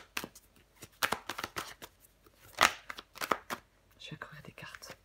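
Tarot cards shuffled and laid out, quick papery riffles and soft slaps in short bursts, with one sharper flurry near the middle, close and intimate under a quiet, breathy voice.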